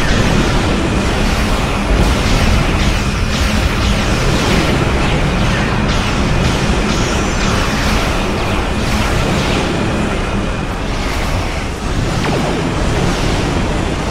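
A heavy torpedo explosion in a Star Trek space combat video game roars as a loud, sustained rumbling blast that fills the whole stretch without letup.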